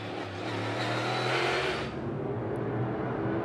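NASCAR Cup Series race cars braking and accelerating at Circuit of the Americas in the 2022 EchoPark Automotive Grand Prix, a loud engine roar that drops off as the car brakes and then climbs again as it revs back up.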